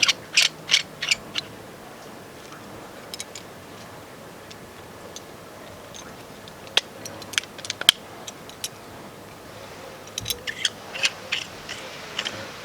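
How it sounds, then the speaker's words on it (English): A rope clamp for climbing a sailboat mast clicks and ratchets as it is closed on the rope, giving sharp metallic ticks and snaps in scattered bursts, close up over quiet background. "You put this over the rope, close it, and it has all kinds of safety here."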